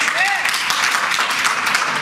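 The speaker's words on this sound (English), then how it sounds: "that's my first applause." A dense burst of clapping from the audience at a public government meeting, steady and fairly loud throughout, with a voice faintly mixed in.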